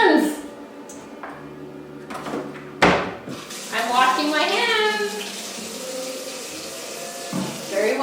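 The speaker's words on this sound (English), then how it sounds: "I gotta go wash my hands. I'm washing my hands." Tap water runs into a sink as hands are washed under it, a steady close splashing rush that starts abruptly after a knock, with someone talking over it.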